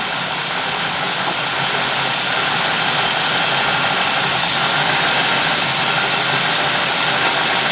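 The 4.6-litre engine of a 2003 Cadillac DeVille, which has had a rough, surging idle, idles steadily, a loud, even mechanical drone that holds without pause throughout.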